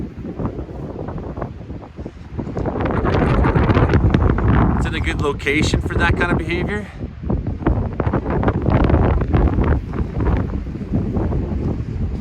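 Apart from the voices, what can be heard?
strong wind blowing during a storm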